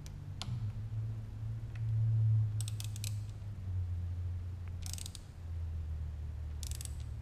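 A wrench ratchets and tightens a bolt during an LS engine swap on a Porsche 944, giving short clicking bursts over a steady low hum.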